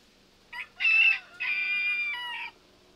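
Hens on a farm, sleeping by the hay, give a few close clucks and then two longer drawn-out squawking calls, loud and clear against a quiet background.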